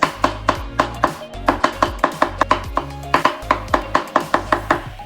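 Knife chopping a red pepper into pieces on a cutting board for a homemade soup, with quick, regular, crisp thuds repeating steadily and close throughout.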